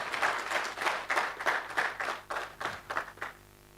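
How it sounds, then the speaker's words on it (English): A round of applause from a conference audience at a pharmacy and cancer event, steady clapping for a few seconds that fades out near the end, with no talk over it. "let's give her a round of applause"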